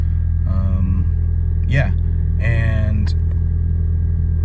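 A 1999 Nissan Silvia S15 Spec R engine idling under the hood, a close, steady low rumble that runs throughout while a person speaks briefly over it.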